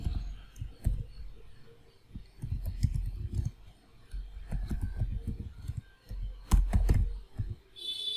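A create table command is typed on a computer keyboard, close and clear, with bursts of rapid key clicks separated by short pauses and one louder clack near the end.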